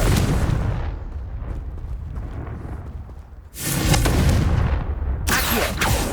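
Repeated fiery blasts of the Confringo spell in the Hogwarts Legacy video game: loud, booming explosions with rumbling decay, one sustained burst fading, then two sharp new blasts in quick succession, close and heavy.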